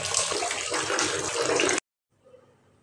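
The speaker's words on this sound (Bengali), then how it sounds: "এখন এগুলি ধুয়ে নেব।" Cut potatoes and onions being washed under running water in a kitchen, a steady loud splashing rush that stops abruptly, followed by faint trickling.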